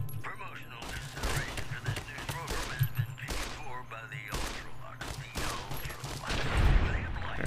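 Bursts of gunfire in Fallout: New Vegas crack and thump repeatedly in rapid volleys, with a person talking over the shots throughout.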